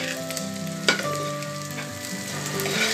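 Crushed cashew nuts fry in a hot pan with a steady close sizzle while a spoon stirs them, one sharper scrape near the start and a faint tonal hum running underneath.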